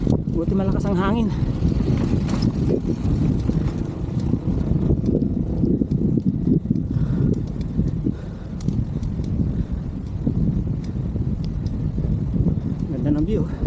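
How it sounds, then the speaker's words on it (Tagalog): Strong wind buffets the microphone in a constant low roar outdoors near San Ysiro Falls in the mountains, with a voice speaking briefly in Tagalog near the start. "Buti malakas ang hangin."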